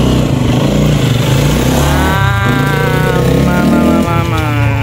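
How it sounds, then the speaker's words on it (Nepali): Motorcycles ridden by a group of young men give a loud, continuous engine drone with shifting, revving pitch throughout, close by and steady. "केटाहरूले बाइक त कुदा कुदै गर्ने भयो"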